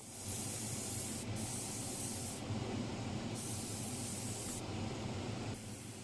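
An airbrush sprays Vallejo rust paint onto a model tank wagon, a close, continuous hiss broken by a few short pauses.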